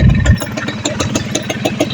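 A Yamaha motorcycle that has been giving off smoke idles close by, its engine throbbing in a steady, even rhythm of quick pulses with no voices.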